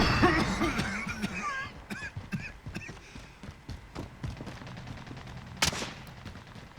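Automatic fire from an M91 light machine gun in Call of Duty: Warzone, with several short bursts of sharp cracks spread across the clip, plus one louder nearby shot near the end, set against game ambience.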